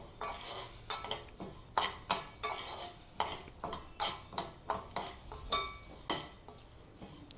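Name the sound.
dry roasting coriander, cumin, pepper and curry leaves in a pan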